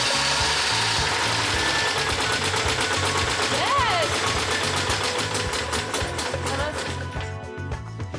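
A Citroën 2CV engine runs loudly and steadily after fuel is poured into the carburettor, a dense rapid mechanical clatter that carries on without letup before easing slightly near the end.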